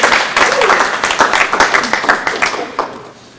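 An audience at a Project READ tutor award event claps for the honored tutors, a burst of individual hand claps and applause with a few voices mixed in, tapering off near the end.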